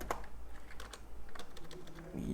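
Rapid keystrokes on a computer keyboard while JavaScript code is written: a fast, continuous run of close clicks over a low background hum, ending in a brief murmur.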